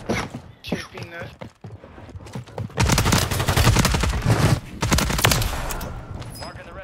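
Submachine gun fire in Call of Duty on Rebirth Island, with rapid automatic bursts growing into sustained, dense firing at close range. Voices talk over parts of it.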